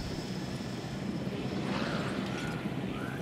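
A helicopter flies over a dinosaur park in the Jurassic World Evolution video game. Its steady rotor and engine drone sounds close and fairly loud for a few seconds, with a faint rising whine near the end and no talk.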